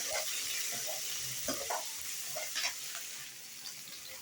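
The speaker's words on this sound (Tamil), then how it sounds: "ஒரு பெரிய வெங்காயம் குட்டி குட்டிஸாக கட் பண்ணி வச்சுருக்கிறேன், 3 பச்சை மிளகா, கொஞ்சம் கருவேப்பிலை போட்டு நல்லா ஃப்ரை பண்ணி விட்டுக்கணும்" Chopped onion, green chillies and curry leaves sizzling in oil in a pan, a steady hissing fry with occasional stirring clinks, close and moderately quiet.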